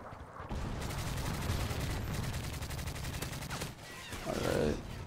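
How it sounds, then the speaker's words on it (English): Heavy, sustained AC-130 gunfire in a multiplayer shooter, a dense continuous barrage of rapid shots and booming impacts lasting nearly the whole stretch, briefly easing then swelling again near the end, with faint voices beneath. "We need the AC-130 to blow him up."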